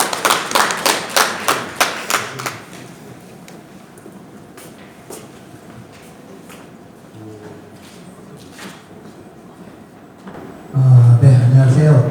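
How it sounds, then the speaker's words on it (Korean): About ten sharp, evenly spaced claps ring out near and loud at an agricultural academy session, then give way to quiet room noise with scattered thumps and shuffles before a voice begins speaking. "큰 박수로 앞으로 모시도록 하겠습니다"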